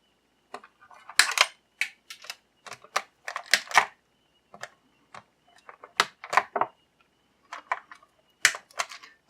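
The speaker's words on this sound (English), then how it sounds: "we're going to snip that wire tie" Wire tie on a Stargate SG-1 Ori Prior action figure being snipped, heard as a series of close, sharp clicks and ticks in irregular bursts, with quiet pauses between them.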